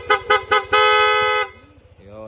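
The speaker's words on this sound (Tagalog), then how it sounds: "PIA, auto style horn, dual horn setup." A louder, richer car-style dual aftermarket horn on a Honda ADV150 scooter sounds in three quick toots and then one long blast, close up over an idling engine, followed by a brief voice.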